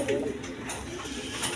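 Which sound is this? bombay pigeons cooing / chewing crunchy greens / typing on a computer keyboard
bombay pigeons cooing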